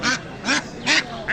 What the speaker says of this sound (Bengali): এখানে হচ্ছে হাঁসের বাজার